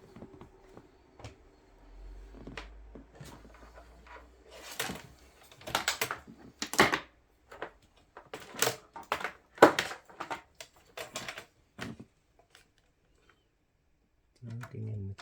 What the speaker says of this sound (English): Plugging in the keyboard, plugging in the video cable and the power.